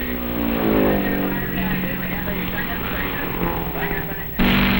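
A 1959 race car howls past at an SCCA national race at Road America, its engine note rising and falling as it goes by under an excited announcer's voice, ending with a sharp jump in level.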